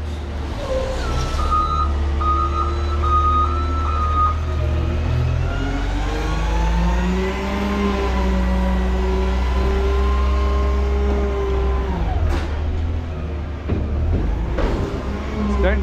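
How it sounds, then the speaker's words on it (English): A garbage truck's reversing beeps ring out early, then its engine revs and strains loudly and close by as the lift raises a garbage can, ending with a sharp clank. "Now it's getting ready to be loud. I'm gonna pick up this one garbage can."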